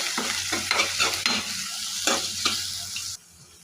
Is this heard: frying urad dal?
yes